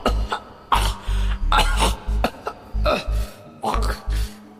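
A series of harsh coughs and throat-clearing bursts, about a dozen in irregular succession, close and loud.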